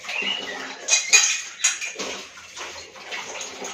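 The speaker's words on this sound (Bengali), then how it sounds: "তো চলো কড়াটা একটু ধুয়ে নিলাম" A karai wok being washed among cutlery and dishes, with close metallic clinks and clatters over splashing, running water in uneven bursts.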